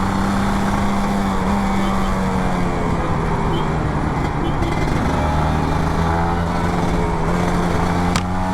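A Kawasaki Ninja RR 150 two-stroke motorcycle engine held at high RPM without shifting gear on a hot Jakarta day, a loud steady buzzing drone that continues unbroken throughout.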